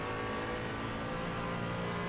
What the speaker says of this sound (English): I like the sound of the Cayman.